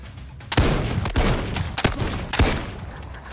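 Gunfire in the VR shooter Zero Caliber VR on Oculus Quest: four loud, close shots or short bursts spaced about half a second apart, each a sharp crack with a thumping tail, over a steady background hum.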